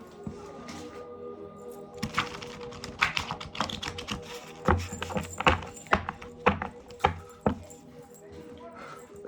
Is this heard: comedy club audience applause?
no